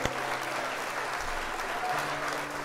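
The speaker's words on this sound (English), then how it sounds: "Round of applause for this episode, though." A crowd applauding steadily and continuously, a dense wash of clapping at moderate volume with no pauses.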